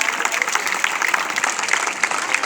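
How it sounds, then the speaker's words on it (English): Audience applause at a school maths musical quiz event, a dense, steady wash of many hands clapping together throughout, fairly loud and close, with no talk over it. "Please give a round of applause, everyone."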